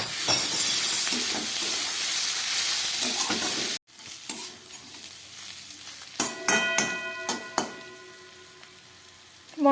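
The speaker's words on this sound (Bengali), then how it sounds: "মশলাটা খুব সুন্দর করে ভাজা হয়ে গেছে।" Spice paste with a splash of water fries in a pan for a small-fish curry, making a dense close sizzle, then after a break lighter sizzling with a few sharp clinks and scrapes of a utensil.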